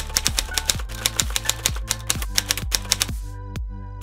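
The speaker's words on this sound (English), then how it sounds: "Now I'm adding a typewriter sound effect." Typewriter key strikes clack in a quick steady rhythm over a bright sustained musical tone, ending with a few sparse final hits as the music fades.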